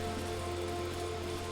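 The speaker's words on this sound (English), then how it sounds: "Oh, and it's raining in the city." Rain falling over a city in Final Fantasy XIV, a steady even patter of drops under a sustained musical drone, unbroken for the whole moment.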